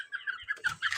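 Small chicks peep in quick high-pitched bursts, close but faint, a handful of short calls within a second.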